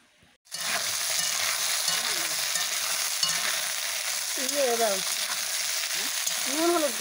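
Vegetable chorchori fries and is stirred in a pan in a home kitchen, giving a loud, steady sizzle that runs throughout after a brief quiet start, with faint voices in the background.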